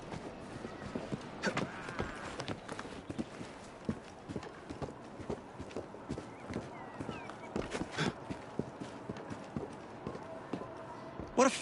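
Horse hooves clip-clop steadily in a video game, a brisk, even rhythm of close hoof strikes on hard ground running throughout, with a voice speaking over them.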